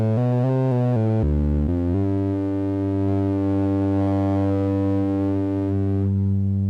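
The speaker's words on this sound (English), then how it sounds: "So you basically have your folding frequencies and create some distortion in it. And harmonics." An Arturia MicroFreak synthesizer plays a loud, bright wavefolded tone rich in harmonics with distortion, starting with quick stepped notes before settling into one long sustained, buzzing pitch.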